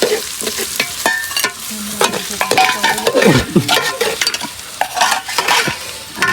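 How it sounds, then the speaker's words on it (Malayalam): Sliced onions sizzle and fry in oil while a spoon stirs and scrapes them around the pan, a steady close crackle broken by frequent sharp stirring knocks, with no talking. "സവാള ഇട്ടിട്ട് ഇച്ചിരി ചുവന്ന് ഇളക്കി കൊടുക്കും"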